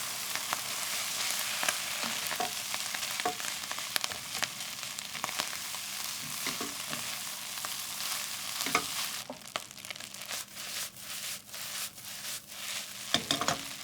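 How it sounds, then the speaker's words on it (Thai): Wet Japanese rice stir-fried with ham in a pan, a steady dense sizzle broken by frequent scraping and clacking strokes of the spatula throughout, with no talking. "ผัดข้าวให้เข้ากัน"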